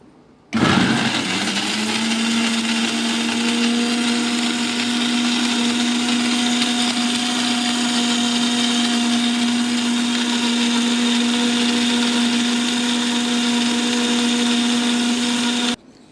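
An electric blender grinding lime pieces with water starts abruptly, holds a loud, steady whirring drone with a constant motor pitch for about fifteen seconds, then cuts off, no voices.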